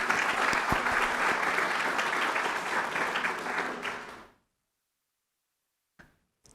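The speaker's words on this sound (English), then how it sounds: "Let's give them all one more round of applause." A crowd at a town meeting in Florence claps loudly and steadily for about four seconds, then the applause cuts off into silence, with a couple of faint knocks afterward.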